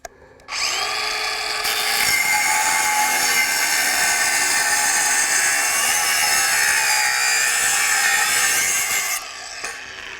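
A Craftsman V20 brushless 4.5-inch paddle-switch angle grinder (model CMCG450) spins up and cuts steadily, a loud, sustained high-pitched whine and grinding rasp lasting about eight and a half seconds before winding down, with no talking.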